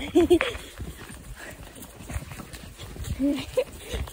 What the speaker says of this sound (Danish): Okay, I får lige en trav her.